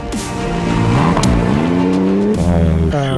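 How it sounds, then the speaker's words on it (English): The BRX Prodrive Hunter rally car at Dakar 2022 roars close and loud, its engine revving and shifting pitch through rising and falling gear changes over a few seconds. "Another disappointment for rally legend Sébastien Loeb in the new BRX ProDrive Hunter."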